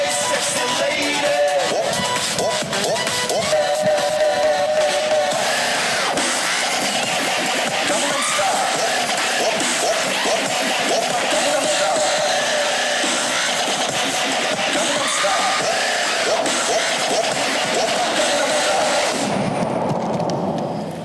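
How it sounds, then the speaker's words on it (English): A conference audience at the ITB MICE Day opening applauds and cheers after a performance, producing a dense, steady wash of clapping and crowd noise that carries on for about twenty seconds before cutting off abruptly. "A round of applause for now."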